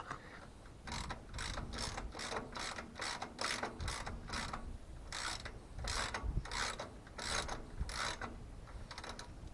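A ratchet wrench loosens bolts on a Farmall Cub tractor, its rapid clicking coming in repeated bursts of strokes with short pauses, close up and steady with no voices.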